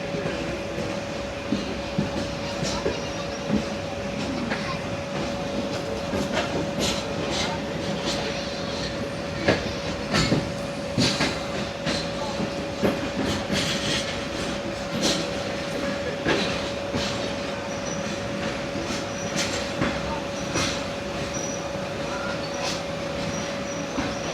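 The Zakariya Express passenger train running on the line to Multan in heat, with a steady rolling rumble, rattling carriages and scattered clicks of wheels over rail joints, heard from inside the coach.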